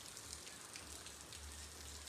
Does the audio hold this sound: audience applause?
no